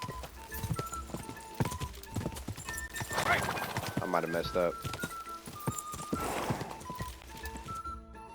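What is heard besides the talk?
horse hooves in Kingdom Come Deliverance 2 video game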